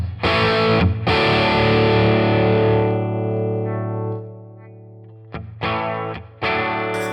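Electric guitar strummed chords through a NUX Vibrolux amp model ring out with a warm, slightly driven tone, sustaining and fading before a few sharper strums near the end.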